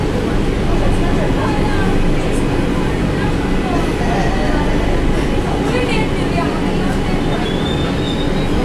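A Kolkata Metro train runs underground on the Howrah to Dum Dum route, approaching Shyambazar. It gives a loud, continuous rumble and rattle with high wheel squeals, heard from inside the carriage.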